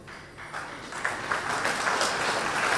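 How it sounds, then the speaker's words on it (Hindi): Audience at a Hindu spiritual discourse breaking into applause, a soft, steady patter of many hands clapping that swells slightly and continues throughout. "बहुत ताली बजाने की आवश्यकता नहीं है"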